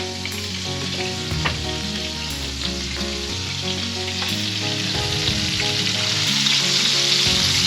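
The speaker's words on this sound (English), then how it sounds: "And then we'll fry these up next" Flour-dredged chicken nuggets frying in oil, a loud steady bubbling sizzle and crackle close by, continuous and slightly intensifying, with occasional faint knocks, no speech.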